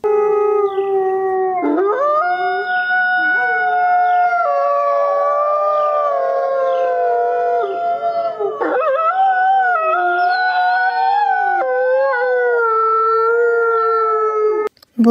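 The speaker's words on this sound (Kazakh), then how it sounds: "Бұл қасқыр. Қасқыр ұлиды." Several wolves howl together in a sustained, layered chorus of rising and falling wavering tones, steady and loud throughout with no other sounds.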